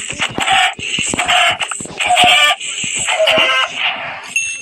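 A video-game chicken clucks and squawks in quick, loud bursts, several calls tumbling over one another across a few seconds, with no talk.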